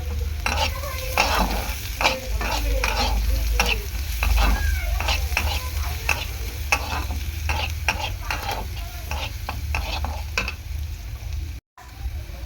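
Crushed garlic paste frying in a pan for a Bengali vegetable dish, with steady sizzle under repeated scraping and stirring strokes from a spatula, close and fairly loud, with no talk.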